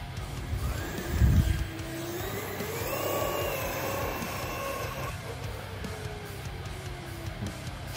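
A Traxxas E-Maxx RC monster truck on 6S power with Chevron tires slides across asphalt, its electric motor whining in rising and falling tones as the tires scrub, with a loud thump near the start, heard close and continuous.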